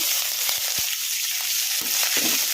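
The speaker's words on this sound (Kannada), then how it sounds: "ಸ್ವಲ್ಪ ಫ್ರೈ ಆಗೋವರೆಗೂ ಫ್ರೈ ಮಾಡ್ಕೊಂಬಿಡೋಣ ಹಸಿಮೆಣ್ಸಿನ್ಕಾಯಿ ಕರಿಬೇವನ್ನ" Green chillies and curry leaves crackle and sizzle in hot oil, a loud continuous frying hiss with scattered pops and spatters close by, no voices.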